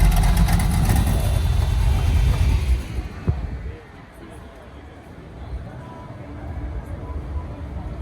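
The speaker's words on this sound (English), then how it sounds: "Nice little Chevy truck, sounds good right here." Chevy truck engine idling at a classic car cruise event on the Gulf Coast, a steady low rumble that is loud and close for the first few seconds and then drops back behind quieter outdoor ambience and faint talk.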